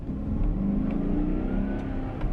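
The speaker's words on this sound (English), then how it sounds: "Do you want that feel of accelerating and having that bit of a punch?" A 2019 Chevy Silverado pickup accelerating, its engine giving a steady mid-pitched revving drone that climbs slightly, heard fairly close and without talk.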